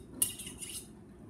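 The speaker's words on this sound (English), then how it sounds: "honed your knife on a knife sharpener" A kitchen knife scraping along a sharpener, one bright metallic stroke then a fainter second stroke, close and crisp over quiet room noise.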